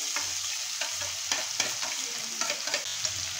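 Onion frying in a pan over crackling cumin seeds, a steady sizzle broken by repeated spoon scrapes and taps in an irregular rhythm.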